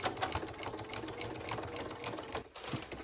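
Sewing machine stitching a harvest apron, a rapid continuous mechanical whirr with a brief pause near the end, close and fairly quiet.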